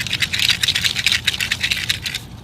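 A dried lima bean plant rattles, dry and crisp in quick irregular bursts of brittle pods shaken close up, with a faint low rumble of passing traffic underneath.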